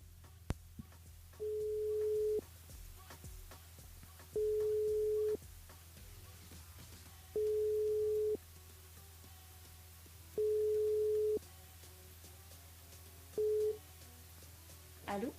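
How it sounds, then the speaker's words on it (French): Five steady beeps of a telephone ringback tone, evenly spaced about three seconds apart, while a radio station calls a listener through its switchboard; a low hum runs underneath and no one speaks. "on appelle Larissa sur le standard"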